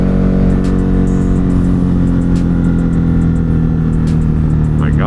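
A Ducati Hypermotard 950 RVE on an evening ride, its exhaust roaring loud and close under heavy wind rush, with sharp pops and snaps breaking through the steady engine drone.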